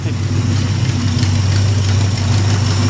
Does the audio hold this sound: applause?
no